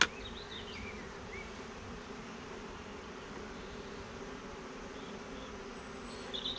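Honey bees buzzing at an opened hive after being smoked, a steady, faint, continuous drone of many insects with occasional louder passes near the end.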